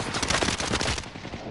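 Sustained automatic gunfire in the shooter game Mainland, a fast rattling burst of close, loud shots for about a second before tapering off.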